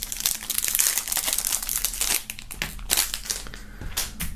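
Plastic foil wrapping crinkles on unboxed items from a box set containing a bag and an album, loud and continuous crackling up close, then breaking into separate crunchy handling bursts.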